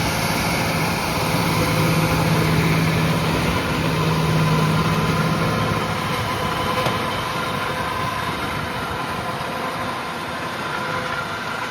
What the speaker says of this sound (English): Power harrow tines at the front of the machine. They go in deep and they spin.